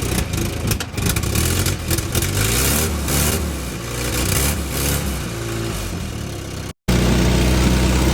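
A big block Chevrolet squarebody truck engine runs nearby, a loud, rough, continuous rumble that revs a little and briefly cuts out near the end.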